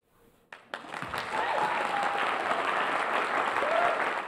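Audience applause at a spelling bee, a few isolated claps at first swelling quickly into loud, sustained, dense clapping that fills the hall for several seconds.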